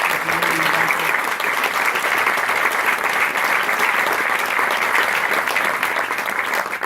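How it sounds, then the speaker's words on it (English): Sustained, loud applause fills a crowd gathered at an event at Bethel Woods in the Catskills, the clapping dense and even from start to finish without pause. "another round of applause for John Flanagan, John Bonner"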